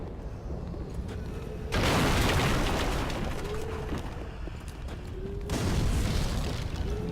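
Thrown fire bombs bursting in Dark Souls 3, two loud, booming explosions a few seconds apart, each with a roaring fiery rush that trails off into lingering crackle.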